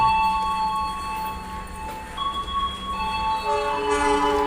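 A freight train rolls past with a steady rumble and long sustained tonal hum, growing slightly louder toward the end, heard from inside a passenger train cabin.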